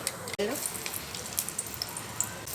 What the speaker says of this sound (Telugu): మరిగాక తాలింపు పెట్టేసుకుంటాం